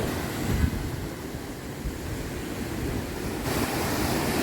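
Ocean surf at a beach in Kanyakumari, with a steady broadband wash of waves and some wind rumble on the microphone, continuous and fairly close, no voices.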